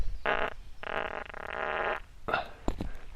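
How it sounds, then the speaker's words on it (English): A long, buzzy fart outdoors on a hiking trail, loud and close, broken into several sputtering bursts with a drawn-out middle stretch. "I feel like I need to fart."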